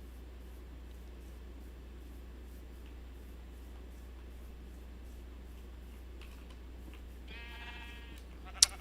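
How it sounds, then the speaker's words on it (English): Sheep bleat in a Minecraft game, a couple of short bleats late in the clip over a steady low hum, otherwise quiet. "We got a bunch of sheep."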